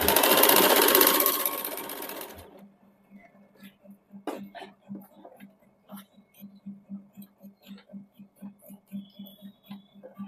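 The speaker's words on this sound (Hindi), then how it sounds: "फिर जिस प्रकार से हम लोग पेटीकोट का डोरी बनाते हैं, उस प्रकार से इसे सिल के एक डोरी बना लेंगे।" A domestic sewing machine stitches fabric into a narrow cord like a petticoat drawstring, its steady rapid chatter running in short bursts close by after a loud opening rush of noise, with faint quiet sounds between runs.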